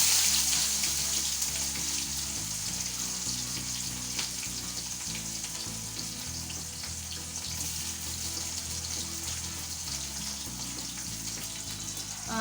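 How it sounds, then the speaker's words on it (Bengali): Steady, loud hiss of chopped onions frying in oil with cardamom and cinnamon, a continuous sizzle with background music playing over it throughout. "দিয়ে দেব পেঁয়াজ কুচি।"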